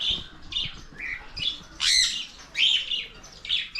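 Several caged birds squawk and chirp close by in sharp, repeated bursts, loud harsh calls spaced irregularly with short pauses between.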